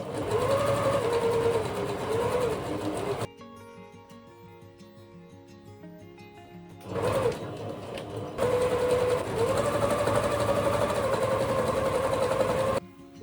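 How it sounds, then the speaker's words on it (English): A sewing machine runs steady stitching bursts while sewing straight lines on a fabric book cover, loud and close, with a quieter pause of faint mechanical clicks between two long runs. "Don't forget to backstitch at the beginning and at the end."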